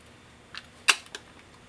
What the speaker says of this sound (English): those are the several shutter speeds for the Exakta VxIIb.